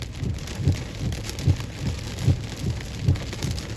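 Heavy rain in a thunderstorm with 50-60+ mph wind gusts and small hail on Long Island, a steady loud wash of rain and wind with low rhythmic thumps recurring about every 0.8 seconds.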